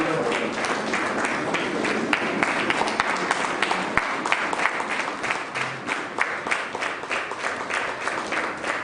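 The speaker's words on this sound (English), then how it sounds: "Please, all I request all delegates to give standing ovations and big round of applause." Delegates at a memorial gathering give a standing ovation: dense, sustained applause from a large crowd fills the room at an even intensity throughout.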